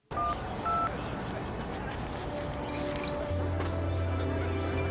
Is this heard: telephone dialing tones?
yes